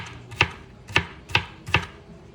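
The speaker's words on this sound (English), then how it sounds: "Chopping peppers goes by extremely fast, which is pretty nice." A knife chops through a bell pepper on a cutting board in a home kitchen, four crisp evenly spaced cuts landing close and clear with no talk.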